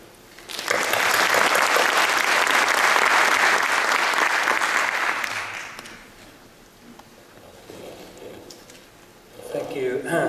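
An audience bursts into sustained applause welcoming Peter W. Steacker, IEEE president, at the IGARSS conference, loud and even for about five seconds before fading, then a voice speaks over the dying claps.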